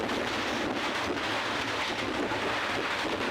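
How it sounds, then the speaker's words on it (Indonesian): A heavy storm in Bogor pours down in a loud, unbroken hiss of rain, with strong wind gusts roaring against the microphone and low thunder rumbling underneath. "Hujan yang berlangsung sejak siang hari disertai angin kencang dan sambaran petir"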